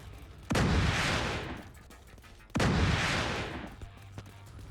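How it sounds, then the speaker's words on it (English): Mortar fire in The Division 2 video game: two heavy, booming blasts about two seconds apart, each with a loud rumbling tail that fades out, with faint battle noise in between. "Watch those mortars."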